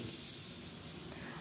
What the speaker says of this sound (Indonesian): kita goreng ini udangnya sebentar aja sampai dengan berubah warna